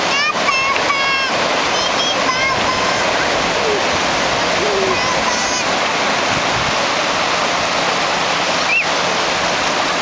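Surf washing in steadily at Jenness Beach at night, a continuous broad rush close by, with children's voices and chirpy high calls heard over it.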